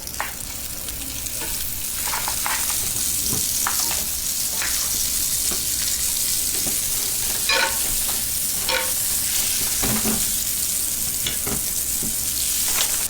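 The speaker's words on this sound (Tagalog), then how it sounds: "At ayan, i-ready na po natin ang ating sizzling plate. Lagyan po natin ng butter." Butter sizzling on a hot sizzling plate ready for chicken sisig, a steady, close frying hiss with occasional sharper crackles and pops throughout.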